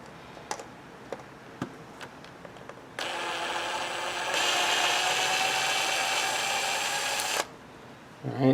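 A power drill whirs for about four seconds, rising in pitch partway through, after scattered light clicks and taps, then stops abruptly.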